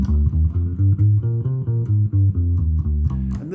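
A bass guitar plays a natural minor scale from C, a run of distinct plucked notes stepping steadily through the scale, clear and close with no talking.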